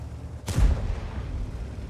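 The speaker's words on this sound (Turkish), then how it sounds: "İki atış yaptı ama T10'a denk gelmedi mermiler" A tank cannon fires once in the World of Tanks video game: a single sudden, loud blast followed by a heavy rumbling tail that fills the rest of the moment.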